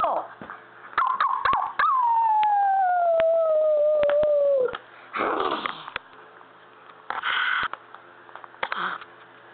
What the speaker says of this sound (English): Ollie, howl!